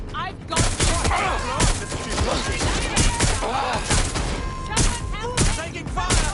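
Rapid bursts of gunfire crackle through a Watch Dogs: Legion firefight, with sharp repeated shots and loud impacts close by, sitting over continuous background noise and a dense game mix.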